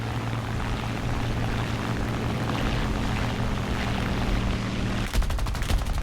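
Rapid .50 calibre machine gun bursts from a P-51D Mustang fighter in a War Thunder air battle, heard as a sharp rattling volley near the end over a steady droning aircraft engine.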